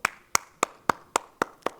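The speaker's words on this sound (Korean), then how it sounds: "박수 칠 수 있어요." A single person claps hands seven times in a steady, even rhythm, each sharp clap close and distinct with brief gaps between, at a church worship service.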